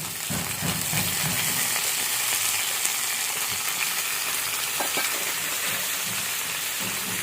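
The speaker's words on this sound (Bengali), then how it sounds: "পেঁয়াজের সাথে মাছগুলো যেন ভালো করে ভাজা হয়ে যায়।" Fish frying with onions in a pan crackles in a loud, dense, continuous sizzle like heavy rain, with faint stirring bumps underneath and no speech.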